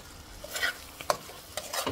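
Spice masala for shrimp curry fries in a pan while being stirred, a hissing sizzle broken by several scraping strokes of the spoon, close and fairly quiet, with no talking.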